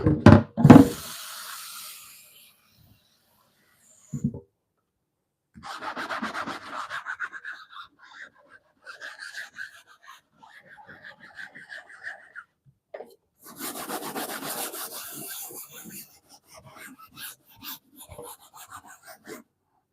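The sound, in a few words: scrubbing and washing a wooden cutting board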